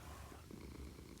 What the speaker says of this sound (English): Oh, listen to that purring.